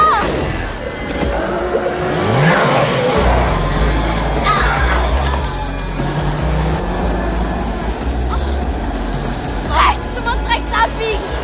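A car speeds up hard with tires skidding and crashing noise in a tense chase, voices shouting over the loud engine and road roar throughout.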